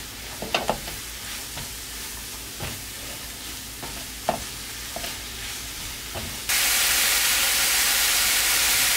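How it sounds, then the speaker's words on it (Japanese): Mushrooms fry with softened onions in a pan, giving a close sizzling hiss broken by clacks of stirring, then a sudden louder, steady sizzle. "玉ねぎがしんなりしてきましたので、マッシュルームを入れますよ。"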